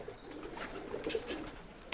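Racing pigeons cooing faintly at a loft, soft repeated coos over a quiet background with light rustling, no talking.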